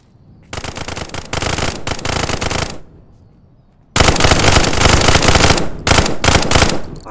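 Gunfire in the VR video game Contractors VR, two long sustained automatic bursts roaring loud and close, separated by about a second of near silence.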